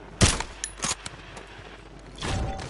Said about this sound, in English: He fucking sniped us.